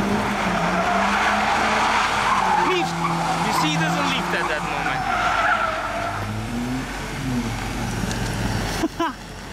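A BMW M5 F90 drifts on muddy ground, its engine roaring loud and close while tires squeal and skid in long wavering bursts, with people talking over it.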